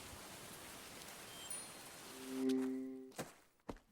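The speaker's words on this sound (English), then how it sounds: "Should we hide from the rain in the abandoned house first?" Steady rain hisses from the opening in the video game Murder by Choice, moderately loud and continuous, before a sustained low tone and a few sharp clicks and thuds break in near the end.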